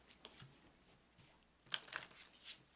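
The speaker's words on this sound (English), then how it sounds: "So that sound you hear is me shuffling the cards" Soft riffling and flicking of playing cards being shuffled nearby, quiet at first, then a brisker burst of snapping cards toward the end.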